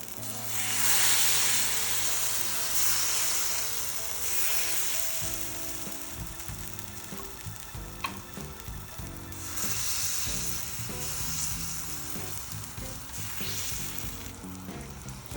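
Rava dosa batter fries on a cast iron tawa with a loud, continuous sizzle that swells and eases, with faint scraping of a utensil partway through.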